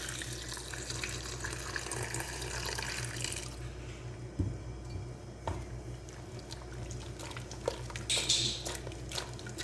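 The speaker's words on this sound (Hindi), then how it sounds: "इसमें पानी हम 3 गिलास मैक्सिमम लाजमी ऐड करेंगे" Water gushes steadily into a cooking pot of lentils, onion and paste for beef shami kabab, a close, continuous pour that stops partway through, followed by a few light clinks and knocks of kitchenware.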